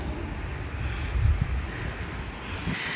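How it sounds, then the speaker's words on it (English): Wind buffets the microphone in a steady low rumble with gusty swells, outdoors at a Roman fort site in Caernarfon, North Wales, with no talking. "It's a bit windy today as well"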